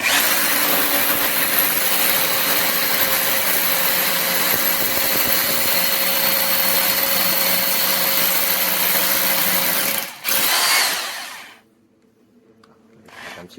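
A Seesii cordless brushless hammer drill with 5000 mAh batteries bores into a solid support wall, giving a loud, steady, high-pitched grinding whine for about ten seconds. It then briefly revs and winds down to quiet.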